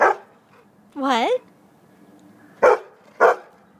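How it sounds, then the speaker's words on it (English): A dog outdoors in a backyard barks twice in quick succession, sharp and close, after a brief whining yelp, with quiet gaps between the sounds. "Double bark."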